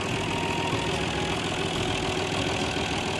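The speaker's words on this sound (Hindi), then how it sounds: "अभी ट्रैक्टर का शोर है" A tractor engine runs steadily throughout, a continuous low rumble with a mid-range drone and no pauses or voices.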